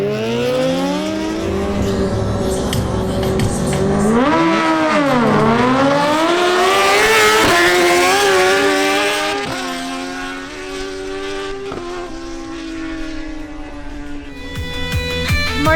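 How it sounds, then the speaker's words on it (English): A Kawasaki Ninja Z1000SX and a Suzuki GSXR1000 drag racing, loud high-revving engines rising and falling through repeated gear shifts, close and continuous for the whole stretch. "Now, Martin Correa, on his Kawasaki Ninja Z1000SX, faces the Suzuki GSXR1000 ridden by Andres Camargo."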